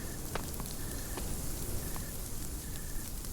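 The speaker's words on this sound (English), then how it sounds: "you can see the rain kind of splattering around" Rain splattering on the ground in the PSVR video game Blind Spot, a dense steady hiss of falling drops with a few sharper ticks and thin tonal beeps over it, no talk.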